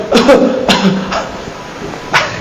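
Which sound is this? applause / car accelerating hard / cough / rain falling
cough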